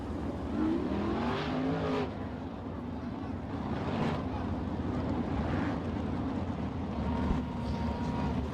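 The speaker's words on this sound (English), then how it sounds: "22 cars will hit lap traffic in a hurry." A pack of 410 sprint cars races around the Attica track, a continuous distant engine roar with swells as cars pass, blurred by wind buffeting on the microphone.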